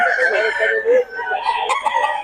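A rooster crows loudly and close by, one drawn-out call with a rough, wavering tone.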